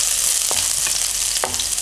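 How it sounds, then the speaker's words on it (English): Chicken sizzles steadily in a hot pot, a bright continuous hiss with a couple of soft clinks from stirring. "Once you hear a little bit of sizzling, then that's ready."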